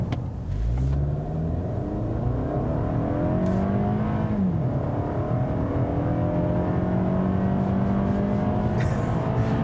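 A 2018 Toyota Camry XSE with a 4-cylinder engine accelerates hard, its steady loud drone climbing in pitch through the gears with a brief dip at a shift, heard from inside the car.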